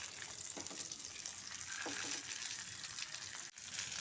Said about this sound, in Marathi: मंद आचेवर एका बाजूने मासे 5 मिनिटे खरपूस भाजून घेऊया.